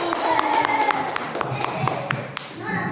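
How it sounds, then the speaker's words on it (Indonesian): Classmates clap for the first group after a school lesson presentation, a scattered patter of claps from a small room with voices talking over it. "tepuk tangan buat kelompok 1"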